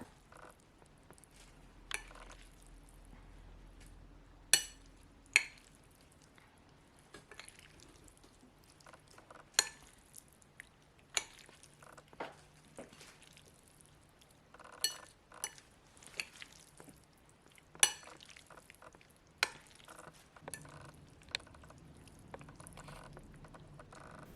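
Shredded pork skin noodles are mixed on a plate, producing sparse, quiet clinks and scrapes of a utensil against the dish at irregular intervals, with little else around.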